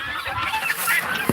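Honking, chattering poultry calls from a farm pen, including a baby duck among adult birds, with several overlapping calls close by over about a second.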